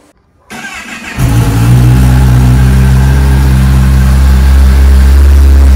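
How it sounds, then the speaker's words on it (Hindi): A Kawasaki ZX-10R sport motorcycle cranks and fires after a brief quiet moment, then rises into a loud, steady, close-up engine roar that holds strong to the end with no talking. "अपनी जो बाइक स्टार्ट हो चुकी है"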